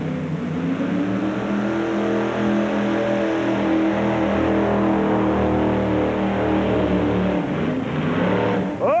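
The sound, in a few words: homemade Chevy injected 650 horsepower pulling tractor engine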